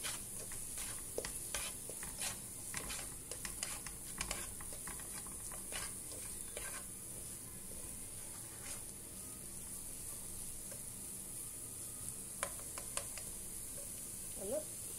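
Chicken leg pieces frying in masala in a pan, a soft continuous sizzle with scattered stirring clicks and scrapes, fairly quiet and close, with no talk over it.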